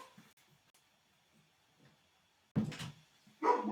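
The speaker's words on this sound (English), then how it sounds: "That's my dog." A pet dog barks twice near the end, two loud close bursts after a quiet stretch with faint background noise.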